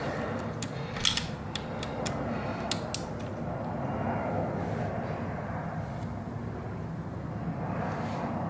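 A torque wrench tightens the clutch bolts on a 2009-2014 Yamaha R1 to 86.5 inch-pounds, giving a series of sharp, quiet mechanical clicks early on, then a low, steady background.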